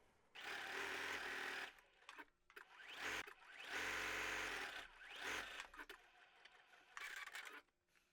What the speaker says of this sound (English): Gone ahead and sewn that seam, and I'm going to do it to the other side as well.